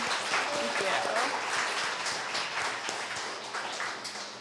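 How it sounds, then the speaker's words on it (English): Audience applause for poetry slam performers at a community college celebration, a steady broadband wash of clapping that holds at even loudness throughout with faint murmuring voices underneath. "let's give a round of applause to all our performers"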